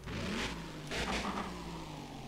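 A fully upgraded diesel car engine in a video game revs hard, rising in two strong surges over a steady engine drone, alone with no talking.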